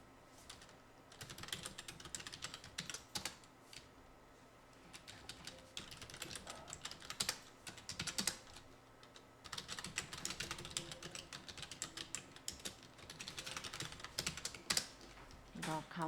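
Rapid clicking of computer keyboard keys, quick bursts of presses and shortcut taps at close range, fairly quiet, with no talking.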